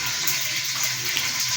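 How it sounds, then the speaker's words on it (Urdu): Water is poured into a bowl of pakora batter with salt for kadhi, a steady splashing gush running alone for under two seconds. "دوستو اب ہم اس میں تقریباً آدھا کپ کے قریب پانی ڈال دیں گے"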